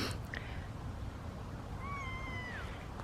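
A cat gives a single drawn-out meow that rises then falls near the end, fairly close and clear over quiet background noise after a brief knock.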